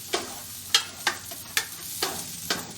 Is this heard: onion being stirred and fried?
yes